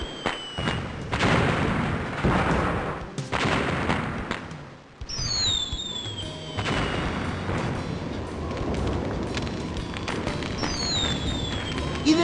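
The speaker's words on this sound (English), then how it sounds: "Even now, some fireworks are still going off." Fireworks going off in the video game Normality, scattered booms and crackles mixed with rising whistling streaks, a lively pyrotechnic show with intermittent bursts through the scene.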